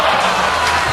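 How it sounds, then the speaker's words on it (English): Crowd cheering and roaring at the X Games skateboarding final, SLS Select Series in Los Angeles, 2013: a dense, steady wash of many voices filling a brief moment. "Crowd loving it."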